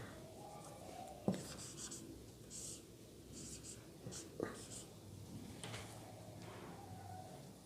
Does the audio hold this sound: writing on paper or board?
yes